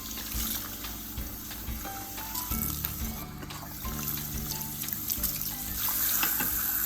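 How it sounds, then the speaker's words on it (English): Water runs steadily from a tap, splashing and trickling while hair is rinsed of nit treatment oil, close and continuous at moderate level. "continue to just thoroughly rinse the hair until all the Nit Picker oil has been removed"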